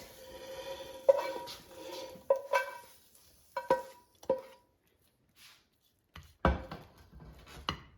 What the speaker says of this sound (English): now I'm going to turn off the heat and remove liver and onions onto my plate